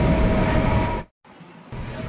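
Train pulling out of Balangir station at night, a loud continuous rumble and rattle of the carriages with a brief dropout, then the steady rolling noise resumes.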